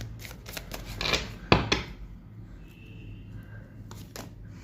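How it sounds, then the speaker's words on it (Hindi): Tarot cards shuffled and drawn from a deck, giving a few quick papery riffles and snaps up close, then quieter handling of the cards. "एक कार्ड लूँगी मैं आपके लिए गाइडेंस के लिए"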